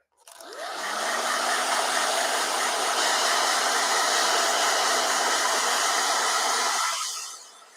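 A blow dryer runs steadily and loudly for about six seconds alone, starting with a rising whine and cutting off near the end.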